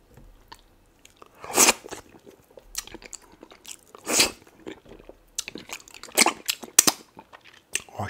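Someone bites and chews a big fish served in a white soup, with close, crisp crunching bursts and wet chewing noises coming in uneven clusters amid quiet pauses.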